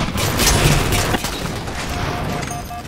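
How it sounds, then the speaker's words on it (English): Gunfire from a sniper rifle in the video game Halo 4, a loud burst of booming shots and clatter at the start that fades into a rumbling tail with faint mechanical tones. "I'm getting sniped back and forth."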